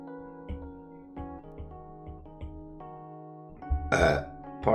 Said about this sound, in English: That wasn't a little, but it was a burp.